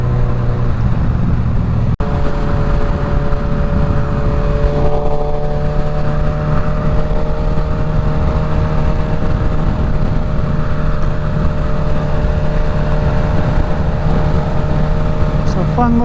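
2025 Suzuki GSX-S1000 fitted with a full Dominator exhaust, riding along at a steady cruise with a continuous loud engine hum and wind roar, under occasional talk by the rider.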